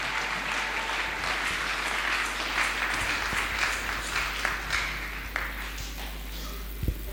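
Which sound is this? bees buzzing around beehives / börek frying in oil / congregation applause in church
congregation applause in church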